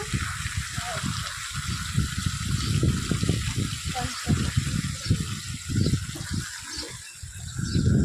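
Water for washing dishes pours and gushes steadily for several seconds, running beneath people talking throughout.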